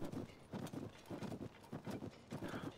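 Horse hooves on snow in the video game Zelda: Tears of the Kingdom, a brisk, regular run of soft muffled thuds, close and fairly quiet, with no speech.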